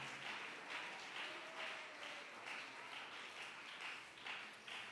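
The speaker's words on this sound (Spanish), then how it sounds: "Démosle un fuerte aplauso al Señor." A church congregation applauding together, a dense, steady wash of clapping that carries on without a break and sounds somewhat distant in a large room.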